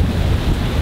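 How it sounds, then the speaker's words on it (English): Strong wind gusts of about 17 knots coming off mountains buffet a sailboat off the Greek coast, a continuous loud roaring rush of wind noise close on the microphone. "We've got 17 knots of wind coming down off of these mountains here"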